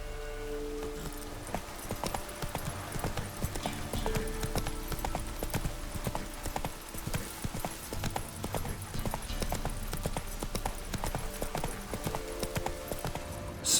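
Hooves of Roach, the horse in The Witcher 3, clip-clop in a steady rhythmic gait throughout, with a faint neigh here and there and brief speech over the top.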